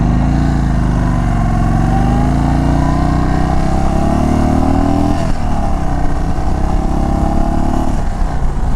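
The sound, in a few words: Indian Chief Bobber motorcycle engine on a test ride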